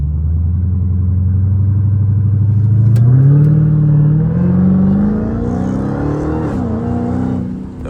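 A Dodge Hellcat accelerating hard in second gear, its loud engine note climbing steadily in pitch over several seconds with a slight dip and recovery near the end, close and without talk.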